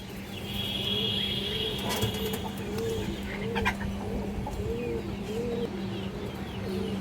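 Pigeons cooing at a market stall selling silver, beji and colored high-flyer pigeons: soft repeated low coos in a steady rhythm, fairly close, with faint background chatter and bird noise.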